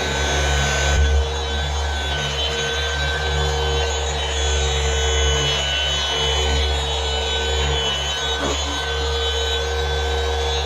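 SPTA 15mm cordless dual action polisher working car paint along an edge, a steady close whirring hum with tonal whine running unbroken throughout, no talk.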